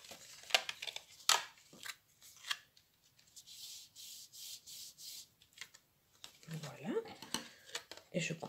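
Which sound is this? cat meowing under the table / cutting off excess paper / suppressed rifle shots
cutting off excess paper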